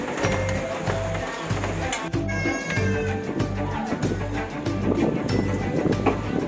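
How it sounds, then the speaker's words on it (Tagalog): Loud, continuous typhoon wind roars and buffets against a microphone, with rumbling gusts and some clattering in the background. "ang lakas na naman ng hangin ngayon"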